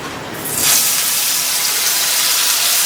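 Ground mustard-poppy paste drops into hot mustard oil in a kadai, setting off a loud, steady sizzle with no one talking over it.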